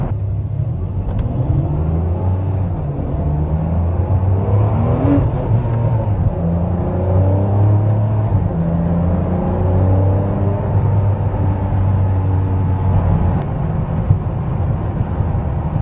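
A 2008 Ferrari 599 GTB Fiorano accelerates hard on a test drive. Its engine gives a loud, sustained drone with strong tonal harmonics, heard close and without talk for about sixteen seconds.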